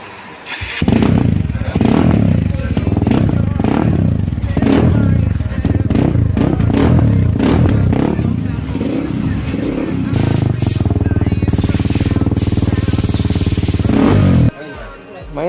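A Hero Xpulse 200 4V motorcycle revs hard and loud while riding, with repeated throttle blips and a rough, popping exhaust note close by, then a steadier drone before the engine cuts back; a voice speaks briefly at times.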